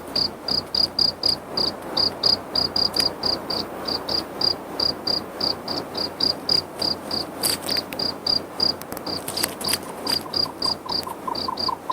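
A cricket chirps in steady rapid pulses, a close, bright repeating trill over faint savanna background ambience.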